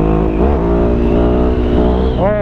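A Ducati Hypermotard 821 motorcycle engine revs and accelerates up through its gears, loud and close, with rising harmonic sweeps and a sharp climb in pitch at the end.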